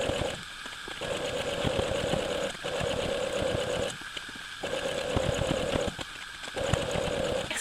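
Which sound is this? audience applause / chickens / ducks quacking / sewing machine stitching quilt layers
sewing machine stitching quilt layers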